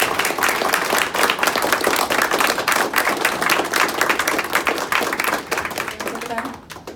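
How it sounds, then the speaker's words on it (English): Audience applause for panelists closing a blockchain and IoT panel session, clearly separate claps forming loud, continuous clapping that fades out at the end, with some talk underneath. "So can I get a big round of applause for our panelists today?"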